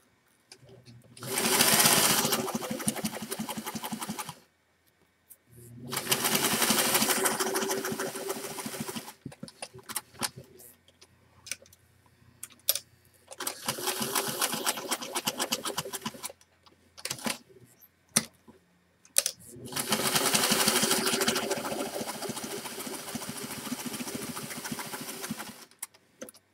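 Sewing machine stitching a piece of felt fabric for a craft project, running in several bursts of steady whirring separated by brief pauses, close and fairly loud.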